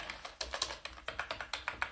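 Fingers tap quickly on a computer keyboard, a close, quiet, fairly steady patter of keystrokes with no voices.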